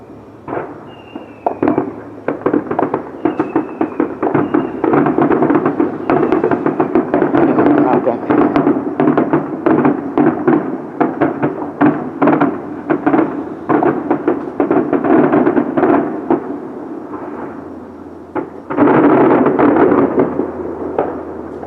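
A bonfire night fireworks display on 5 November, with rapid, nearly continuous bangs and crackling bursts, loud and close, rolling on for about twenty seconds with a brief lull near the end and voices faintly underneath.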